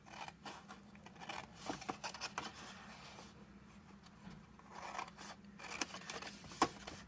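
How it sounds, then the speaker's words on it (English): Larger scissors cutting paper for a Stampin' Up! card, a quiet, close run of snips and crisp rustling slices over several seconds, with no talk over them. "I got to use my bigger scissors. I'm going to cut this one about in half."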